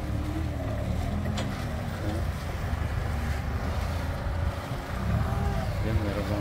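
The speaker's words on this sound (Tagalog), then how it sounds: "Lakas ang hangin dito." Steady roar of strong wind buffeting the microphone in New Jersey, USA, with a low engine-like rumble underneath and faint murmuring voices in the background.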